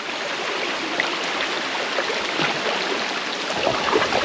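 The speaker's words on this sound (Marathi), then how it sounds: "हे बघा पाणी पाणी धरण" Water flowing at a dam, a continuous bright rushing hiss like a fast stream that stays steady and fairly close throughout, with no talking.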